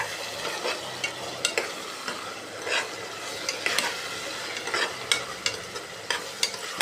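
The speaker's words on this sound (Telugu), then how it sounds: "ఇది టమాటోని కొంచెం మగ్గాలి" Chopped tomato sautéing in a pan for masala chaap curry gives a steady soft sizzle, broken by scraping stirs of a spatula at irregular intervals, close and moderately loud with no talking.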